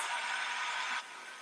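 A hair dryer blows steadily on freshly painted coffee table legs, a loud, even rush of air with no talking, dropping slightly in strength toward the end.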